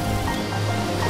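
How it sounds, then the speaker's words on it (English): Ocean waves in a cartoon soundtrack for Sinbad the Sailor make a steady, full roaring wash with a low rumble underneath, loud and continuous, with no speech. "There were waves all around."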